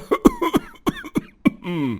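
A series of harsh, hacking coughs in quick bursts, close and loud, ending with a longer rasping, wheezy exhale.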